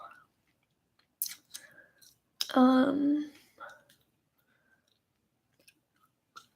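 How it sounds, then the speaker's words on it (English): Trident spearmint gum chewed close to the mic: scattered soft, wet smacks and clicks separated by quiet gaps, with a brief voiced hum or murmur in the middle. "I'm chewing Trident, like mint spearmint gum."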